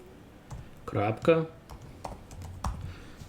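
Computer keyboard keys clicking in short bursts as code is typed, fairly close, with someone speaking over part of the typing.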